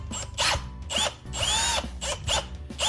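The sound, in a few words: power drill driving screws into outlet box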